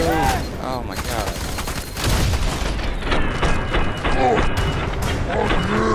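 Combat in the shooter game Fear 3 brings a heavy boom around the two-second mark, along with bursts of gunfire and rumbling explosions, while voices call out over the noise throughout.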